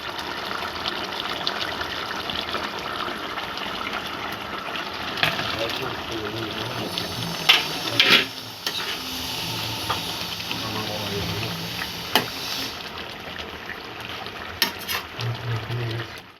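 A Bengali curry of fish-roe fritters with boiled potatoes simmers in a pan. It gives a continuous bubbling hiss, joined by occasional louder utensil knocks and scrapes.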